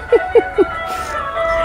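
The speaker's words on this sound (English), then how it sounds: "how about that for some awesome Peruvian music driving down the street?" Peruvian music blares from a loudspeaker mounted on a car driving down a street in Chinchero, Peru, opening with three short melodic notes and then a sustained tune amid street noise.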